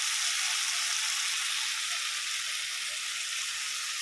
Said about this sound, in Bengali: তারপরে সর্ষে আর পোস্তটা দিয়ে ভালো করে নাড়াচ্ছি